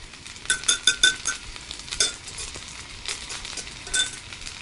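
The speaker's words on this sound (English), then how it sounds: "You can see we've got our potatoes browning here." Potatoes browning in a hot pan for a breakfast burrito, with a soft sizzle under a run of light utensil clinks and scrapes against the pan. Stirring is busier early on.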